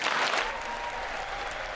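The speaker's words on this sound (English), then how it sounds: "The crisis in Ukraine getting a big applause from both sides of the aisle, Ted." Loud sustained applause from both sides of the aisle in a legislative chamber during the State of the Union address, a dense steady clatter of many hands throughout.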